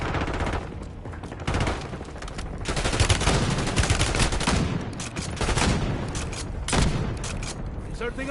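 Gunfire in the video game Call of Duty: Warzone: dense, sustained bursts of automatic weapon fire with heavy booming shots layered together, loud and continuous, with voices mixed in.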